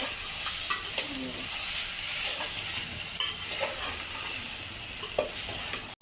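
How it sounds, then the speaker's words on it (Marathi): Spices and vegetables sauté for traditional masale bhaat, giving a dense, constant sizzle close up with faint scattered stirring clicks throughout and no voices. "छान असे आपले मसाले आणि आपले भाजीपाला मस्त असे झालेले परतून"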